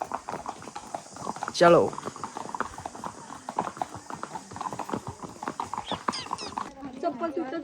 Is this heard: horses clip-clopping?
yes